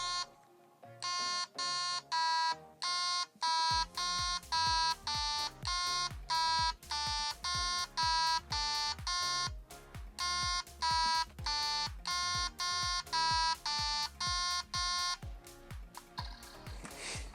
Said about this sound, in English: So it'll go beep, boop, boop, and then you have to go beep, boop, boop.